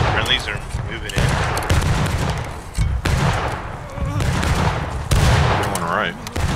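Repeated musket volleys in a Civil War battlefield video game, sharp cracks and booms arriving in clusters, with distant shouting voices beneath the shooting.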